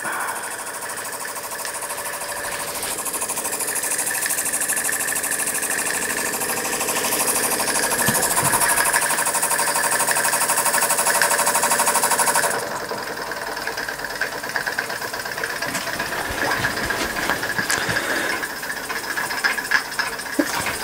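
A scratch-built model steam engine runs steadily, making a continuous mechanical chatter and hiss close up. It gets louder midway, then drops to a lighter rapid clatter.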